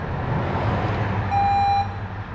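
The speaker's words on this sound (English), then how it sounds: "when I start up, it should beep 4 times as it starts up" An electronic beep tone from a tension machine starting up rings out over a steady low engine-like hum, a single sustained bleep rather than a clear series.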